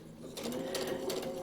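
A sewing machine stitches a paper-pieced quilt block, its rapid mechanical whir starting after a brief pause and running steadily up close, with a couple of short bursts near the end.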